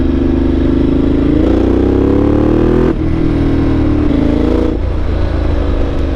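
A Ducati 1200 Multistrada Enduro motorcycle engine runs loud and close, its throbbing note climbing in pitch under throttle, dropping briefly at shifts, then pulling up again.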